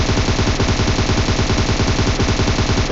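A machine gun in a military video game fires a continuous rapid burst, loud, dense and evenly paced throughout, with no voices.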